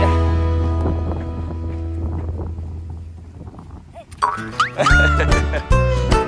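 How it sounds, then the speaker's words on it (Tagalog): Steady wind roars across a microphone near open water, with a voice calling out and louder buffeting gusts toward the end. "ang lakas ng hangin"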